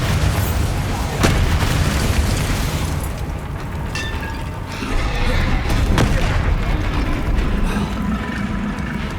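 Bombarda blasting spells in the wizard combat game Hogwarts Legacy, with heavy booms and sharp bursts going off amid a dense, continuous battle din that stays loud throughout.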